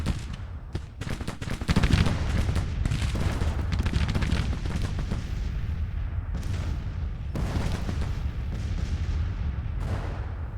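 Cannon fire on a Civil War battlefield in a video game, a continuous barrage of deep booms and crackling gunfire rolling on without pause, loud and dense, with sharper blasts standing out now and then.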